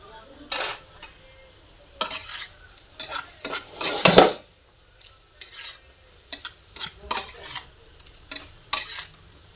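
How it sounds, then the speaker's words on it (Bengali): Taro being stirred in a pan with turmeric and cumin powder: intermittent scraping strokes of a utensil against the pan over a faint sizzle, near and clear with no talking. "হলদি গুঁড়ো, জিরা গুঁড়া দিয়ে ভালো করে মিশিয়ে নিব।"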